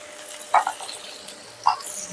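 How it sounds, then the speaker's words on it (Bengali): Pumpkin chokka being stirred in a frying pan with turmeric and salt, a soft low sizzle broken by two sharp spatula scrapes against the pan, close and quiet between strokes. "এবার এটাকে আমি ভালো করে মিশিয়ে দেব।"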